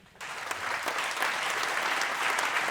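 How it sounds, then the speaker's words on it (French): An audience breaks into applause after a brief moment of quiet, and the clapping swells quickly into dense, steady, moderately loud applause from many hands. "Vous pouvez l'applaudir?"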